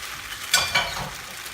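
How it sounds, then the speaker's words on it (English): Chicken lo mein noodles and vegetables stirred through with cornstarch in a hot pan, a close sizzle with two quick scraping strokes of the utensil, loud and alone. "Stir that through."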